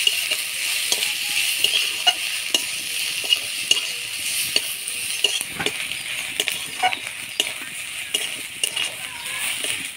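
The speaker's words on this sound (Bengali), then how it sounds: "নারকেল কোড়া দিয়ে ভালো করে নাড়াচাড়া করে নেবেন।" Grated coconut fried in oil with crushed garlic for a prawn curry gives a constant hissing sizzle close by, with regular sharp scrapes and taps of a spatula stirring the pan throughout.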